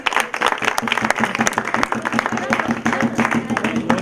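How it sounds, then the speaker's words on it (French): A crowd applauds and cheers in praise of the Lord during a thanksgiving day gathering with orphans in Gabon, steady dense clapping filling the whole stretch with raised voices mixed in. "Est-ce qu'on peut acclamer pour le Seigneur?"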